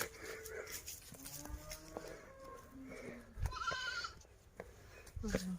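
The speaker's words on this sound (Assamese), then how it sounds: "ছাগলীবিলাকে উঠি হৈ আছে আৰু ঘাঁহবিলাক খাই আছে।" Goats bleat repeatedly on a grassy mountainside, several short wavering calls near and a little distant, with faint voices and rustling between them.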